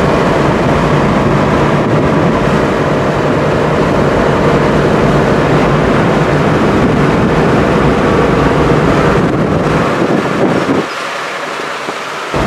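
A Chevrolet S-10 pickup with a high-idle fault drives along, giving a steady, loud road and engine rumble with wind noise that runs unbroken before dropping away near the end.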